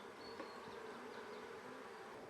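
Honey bees in an open hive hum in a dense, continuous buzz, faint and steady, with no voices.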